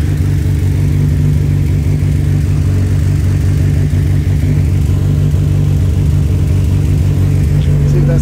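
A turbocharged Mazda Miata engine, just started for the first time, idles loudly and steadily nearby with a deep, even rumble and a constant low hum, no voices over it.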